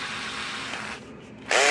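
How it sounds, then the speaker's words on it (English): A power drill bores a hole through the double-sided circuit board of a Zareba 25 Mile electric fence charger. A steady whirring hum runs for about a second, then a louder, harsher burst of cutting noise follows near the end. "We'll drill a hole right next to it."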